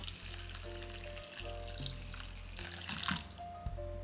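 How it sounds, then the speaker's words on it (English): Boiling water pours steadily over cut konnyaku threads in a colander, a continuous hissing splash with a low hum underneath, close by and fairly even. "and pour boiling water over them"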